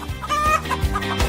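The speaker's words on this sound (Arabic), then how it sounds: "دجاجة." A chicken clucks several times in quick, irregular bursts, close and clear, over a short stretch with no talking.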